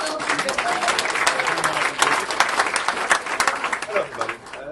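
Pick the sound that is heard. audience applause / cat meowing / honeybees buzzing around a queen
audience applause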